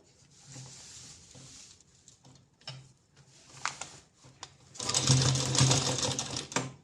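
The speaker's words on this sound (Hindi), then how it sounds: "ये लॉन्ग डोरी हमें यहाँ पे इस तरह से अटैच करनी है पहले सिलाई से" A sewing machine stitches a long decorative cord onto fabric for a neck design. It starts with faint, scattered ticks and light mechanical taps, then breaks into a loud, close, steady whirring run for the last two seconds.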